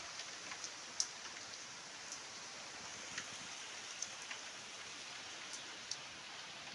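Heavy monsoon rain pouring steadily, a dense even hiss with scattered louder drops pattering nearby, without any speech.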